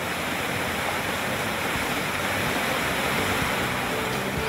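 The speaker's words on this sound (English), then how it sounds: "the sound of trickling water" Steady broadband rush of water at Chimborazo waterfall, a continuous close, even roar with no pauses and no voices.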